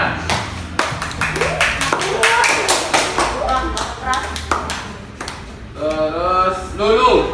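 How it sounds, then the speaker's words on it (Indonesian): Brief bursts of clapping from a class applauding gymnastics students during a floor exercise lesson, irregular taps up close with a voice talking over them. "Tepuk tangan."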